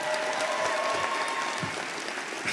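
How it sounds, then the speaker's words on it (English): A graduating PharmD class of 2025 applauds itself at a graduation ceremony, a sustained, uniform crowd clapping with a faint tone running beneath it, with no speech over it. "Give yourselves a round of applause."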